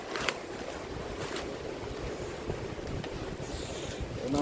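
A boat out at sea off the coast, with steady wind buffeting the microphone and waves washing against the hull, a continuous rough rush that holds at a fairly constant level with no one speaking.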